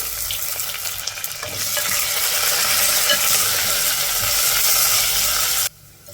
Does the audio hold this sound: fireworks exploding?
no